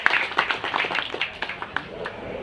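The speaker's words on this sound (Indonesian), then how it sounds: "Tepuk tangan untuk Pak Reza dan Pak Seno." Scattered clapping from a small group at a staff iftar gathering, a brief patter of individual claps at moderate distance, quick and uneven, tapering off.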